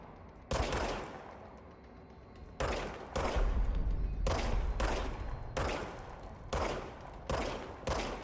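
Gunfire from a handgun in the video game Control, about seven sharp, loud shots fired in an irregular sequence with short gaps between them, close and clear, with no talking.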